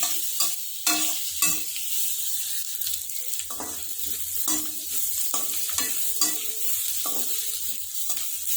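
Sliced onions and garlic fry steadily in a pan for a spicy arbi dish, a continuous close sizzle broken by repeated scraping stirs, with no talking.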